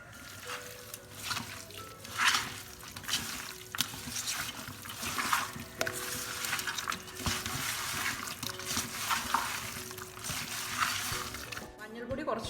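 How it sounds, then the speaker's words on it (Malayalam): Hands knead a mutton biryani marinade made with several spoonfuls of coconut oil, producing wet squelching and slapping sounds in uneven bursts close by. "ഇനി നമുക്ക് കൈ വെച്ചിട്ട് നന്നായിട്ടൊന്ന് കുഴച്ചെടുക്കണം"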